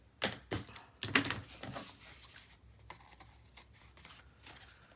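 Paper being cut with scissors for a handmade mini album, a few crisp snips and rustles close by in the first seconds, then quieter handling of the paper.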